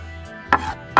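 Close, crisp knife strikes on a cutting board while chopping cilantro, two sharp chops about half a second apart over a quiet kitchen background.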